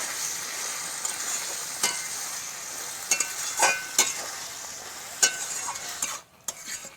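Young bottle gourd sautés in a pan with a steady, fairly soft sizzle, broken by occasional sharp scrapes and clicks of a utensil stirring, with no voices.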